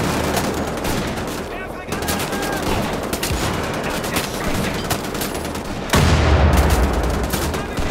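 Rapid gunfire from the World War II shooter Wolfenstein: The Old Blood rattles in loud, dense bursts throughout, with a heavier blast partway through and no talking.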